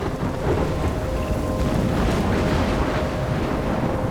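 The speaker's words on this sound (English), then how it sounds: "I'm trapped in a storm?" A steady thunderstorm in Life is Strange: dense, continuous rainfall over a deep, rolling rumble of thunder, loud and unbroken, with no voices.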